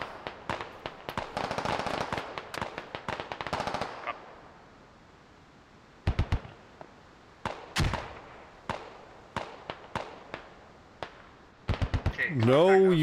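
Mortar shells crash down in a Squad battle, sharp detonations and crackling gunfire in bursts, with a quieter gap mid-clip before more scattered blasts.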